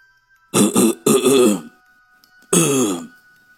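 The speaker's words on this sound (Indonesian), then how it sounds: "sebuah suara seperti orang berdehem jelas terdengar" A man clears his throat in a horror story, three distinct guttural bursts in a row, the last after a short pause, loud and close with nothing else around.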